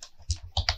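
A few quick keystrokes tap on a computer keyboard while PHP code is typed, close and fairly quiet, in an uneven burst of about four clicks.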